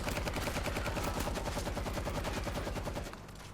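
Rapid automatic gunfire in the zombie shooter game World War Z on its Jerusalem level, a dense, loud burst of rhythmic shots that continues for about three seconds and then stops abruptly.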